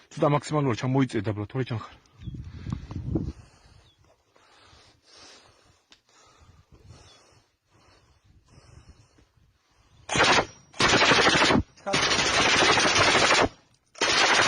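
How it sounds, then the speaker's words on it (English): Machine gun fire from a Georgian Legion trench line in the Ukraine war: talk at the start gives way to a quiet stretch, then loud, sustained automatic bursts with short gaps near the end. "we saw the Georgian Legion firing at the Russians from their trench line"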